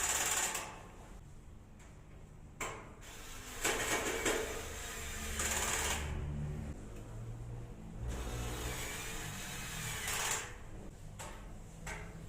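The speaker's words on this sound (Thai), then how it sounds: "ผมแนะนำเลยว่าไขควงไฟฟ้าจะทำให้ชีวิตคุณผู้ชมนั้นง่ายขึ้นเยอะเลยครับ" An electric screwdriver driving screws while assembling an IKEA Hyllis shelf, several short whirring bursts of motor noise broken by pauses and handling clatter, close and fairly loud with no talking.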